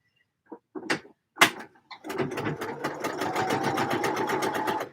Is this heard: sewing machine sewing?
yes